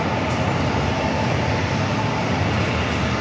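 A KLM airliner sits on the runway at San Diego airport, its engines giving off a steady, loud broadband roar that holds evenly throughout, with no voices.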